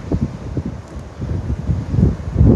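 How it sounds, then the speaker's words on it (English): Gusty wind on the shoreline at Plettenberg Bay buffets the microphone in uneven low rumbling bursts, building louder toward the end, with no voices. "It's a bit windy, so I'm sorry about that."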